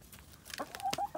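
Chickens cluck in short, clipped calls, a few rising notes close by over a faint background, eating fermented feed.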